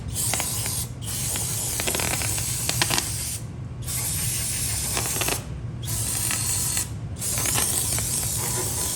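Lucas Oil parts cleaner sprayed from an aerosol can, a loud continuous hiss broken by four short pauses, with faint mechanical clicks underneath.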